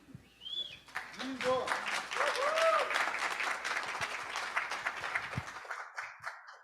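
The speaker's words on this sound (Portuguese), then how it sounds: "Peço, por gentileza, que vocês aplaudam o Ramiro Rodrigues." Audience applause at a Brazilian audiovisual conference, a dense burst of clapping that swells after a brief spoken introduction, stays full for several seconds, then tapers off into quiet.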